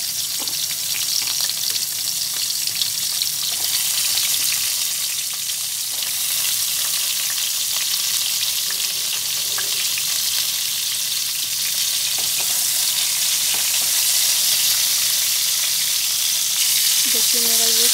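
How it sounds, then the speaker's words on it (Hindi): Pointed gourd pieces coated in salt and turmeric fry in oil for a Bengali-style potato and pointed gourd curry, making a steady, close sizzle with occasional stirring scrapes over a long, even stretch. "देखिए मेरा ये फ्राई हो रहा है, और भी इस तरह से एकदम गोल्डन तक इसको फ्राई करेंगे"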